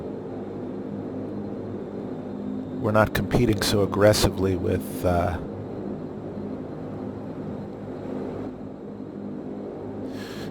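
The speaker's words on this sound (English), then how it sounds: "as lovely as that turboprop sound is" Turboprop engines of a Majestic Dash 8 Q400 in a flight simulator game hum as a steady, fairly quiet drone for the whole stretch, while someone talks over it in the middle.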